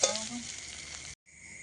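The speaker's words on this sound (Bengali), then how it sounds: "তো এখন এই আলুতে আর জল দিয়ে দেবো, গরম জল তরকারির জন্য।" Potatoes frying in a pot give a loud, close sizzle as hot water is poured in for a curry. After a brief cut, a steadier hiss and bubble follow.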